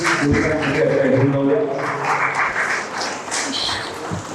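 Audience at a live mimicry performance bursts into a few seconds of steady, dense clapping, with voices mixed into the crowd noise.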